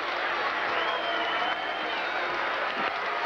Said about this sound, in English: here is the roar of the crowd for the champion